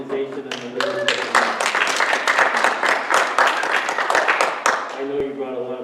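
Attendees at a Manchester Township Board of Education meeting break into a burst of hand clapping that swells and holds for several seconds. A speaker's voice is heard briefly at the start and again as the clapping fades.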